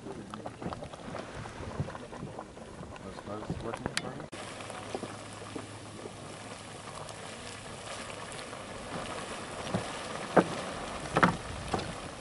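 Hot spring geyser at the Old Faithful area, bubbling and splashing in a steady, rain-like wash of sound with occasional sharper pops, fairly close, with faint voices in the background.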